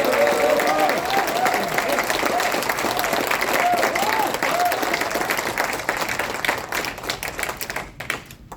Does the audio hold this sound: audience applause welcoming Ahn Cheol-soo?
yes